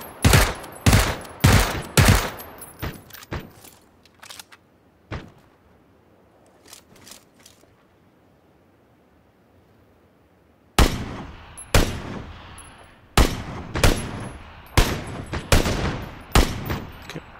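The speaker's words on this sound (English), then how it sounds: "we were both shooting at the same guy" Gunfire in the video game PUBG comes as sharp, loud bursts of rapid shots, then a long quiet gap with a few isolated shots, before another run of heavy, closely spaced shots.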